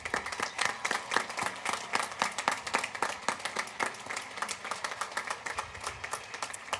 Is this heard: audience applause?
yes